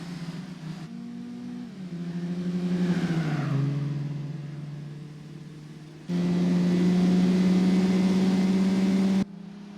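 A Honda City Turbo II races in Gran Turismo 4, its engine revving hard and climbing, dipping and rising through gear changes, loud and close, with a sustained high drone before cutting off abruptly.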